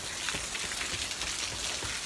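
Steady rain falling outdoors, a dense continuous hiss and patter of drops close by, with no voices.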